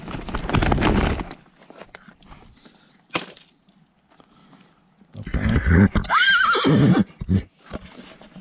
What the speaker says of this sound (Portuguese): Tá bom ainda, que tá rinchando pra égua ainda.